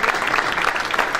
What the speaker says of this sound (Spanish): aría Beatriz Giraudo, presidenta de Aprecid, a quien le brindamos un fuerte aplauso